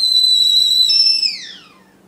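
A whistling kettle gives a high, steady whistle with bright overtones for over a second, then slides downward in pitch and fades out, close and loud.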